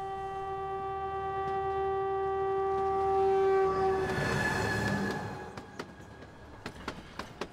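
A train on the narrow-gauge Kangra Valley Railway in India sounds a long, steady multi-tone horn, then wheels rumble and rattle over the track with rhythmic clacks of the rail joints, moderately loud and close.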